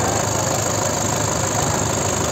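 Swaraj 855 and Sonalika tractor engines run at a village tochan tug-of-war contest, giving a loud, continuous diesel drone with a steady knocking pulse and no talk over it.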